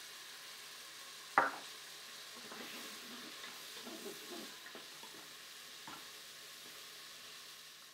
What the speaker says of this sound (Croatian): Sada sve skupa promiješamo i ostavljamo da se polako sve skupa upržava